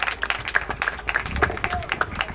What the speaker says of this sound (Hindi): खुदावंद की हालेलुया जोरदार तालियां बजाएं।